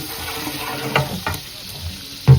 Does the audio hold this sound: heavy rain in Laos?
no